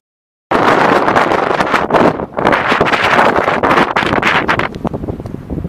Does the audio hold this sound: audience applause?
no